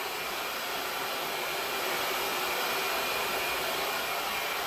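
A hair dryer blows steadily on the roots of hair during a salon blowout, a loud continuous whooshing roar with no pauses and no talking.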